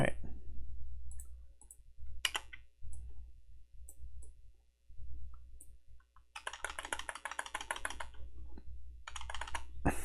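A card deck is shuffled in Tabletop Simulator as a rapid, crisp clattering burst that follows a few isolated clicks.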